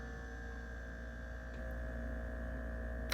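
Household refrigerator humming steadily nearby, a constant low electrical drone that swells slightly partway through as it kicks on, with a faint click at the end.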